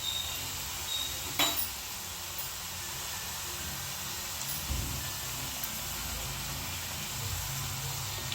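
Tapioca chips fry in a pan of hot oil, giving a faint, steady sizzle and hiss throughout, with an occasional soft clink of a utensil against the pan.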